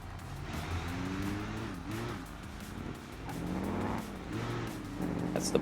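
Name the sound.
car driving away in BeamNG video game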